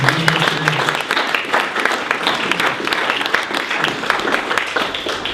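An audience at an LA2M talk bursts into sustained applause, dense and steady clapping filling the room from start to end with a faint voice briefly audible at the outset.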